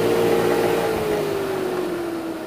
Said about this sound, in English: Based off of an angle grinder motor, because that's what I had.